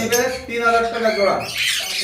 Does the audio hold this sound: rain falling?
no